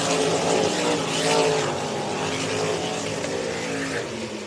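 Race cars on an oval dirt track at an Underwood feature race roar into the corner, a steady, loud blend of engines sustained throughout with no talk.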